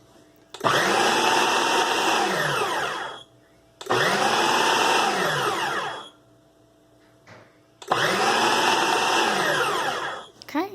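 A food processor mixing pie crust dough runs in three long pulses of roughly two to three seconds each, a loud whirring motor roar starting and stopping abruptly with quiet gaps between.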